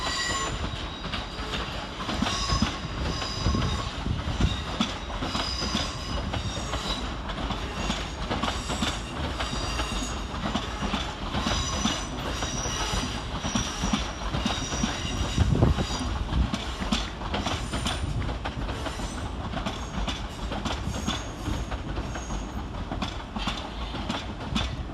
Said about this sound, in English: Arriving next to terminate with a Southeastern Railway service off Portsmouth Harbour